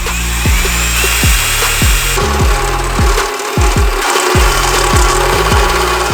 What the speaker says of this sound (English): in order to install it, we need to drill into the oil sump